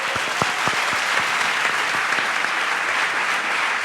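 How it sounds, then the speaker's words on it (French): A large audience at a talk applauds loudly and steadily for several seconds, with dense continuous clapping and a few sharper individual claps standing out near the start. "C'est pourquoi je vous demande d'applaudir bien fort le retour de Sama Karaki."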